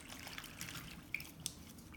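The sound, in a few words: orchid roots swished in a bowl of water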